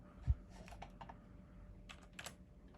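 A Windows 98 computer keyboard slides out with a soft thump, followed by a few scattered light clacks and clicks up close in a quiet room.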